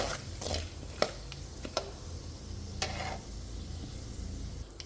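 Chana dal sizzling in oil in a pan until reddish, as the start of a pumpkin palya, with steady frying hiss and a few sharp clinks from stirring, no talk.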